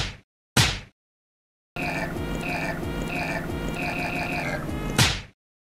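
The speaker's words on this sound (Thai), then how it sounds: "ใช่เสียงกบเพราะว่าฝนมันจะตกไงแล้วกบมันร้อง" Frogs croaking ahead of rain: a dense, steady run of rhythmic pulsed croaks lasting about three seconds, framed by a couple of short, sharp bursts before and after.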